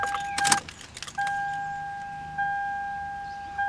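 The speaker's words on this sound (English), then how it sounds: "turn on the car to accessory power" Jangling keys rattle briefly in a 2003 Toyota Camry, then the car switches to accessory power and a steady electronic tone rings out, repeating at intervals.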